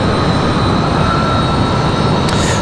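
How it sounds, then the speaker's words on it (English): A CRJ regional jet arriving at Raleigh-Durham airport sends a steady, loud jet-engine roar across the short stretch, with no voices. "Looks like our next arrival is going to be an E170 or a CRJ"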